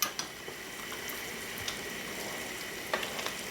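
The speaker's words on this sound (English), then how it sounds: "The berries are coming to a full boil, rolling boil here" Black and red currant berries at a rolling boil in a pot for jam, a steady close bubbling and sizzling texture with a few soft stirring knocks, no voices.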